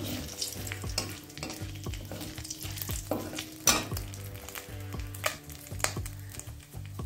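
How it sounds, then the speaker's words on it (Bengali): Whole garam masala of four to five cardamom pods, four to five cloves and two pieces of cinnamon frying for a few seconds in a pan for a prawn milk curry, a close sizzle over a low steady hum with repeated spoon taps and scrapes. "এবার এটাকে কয়েক সেকেন্ড একটু ভেজে নিচ্ছি।"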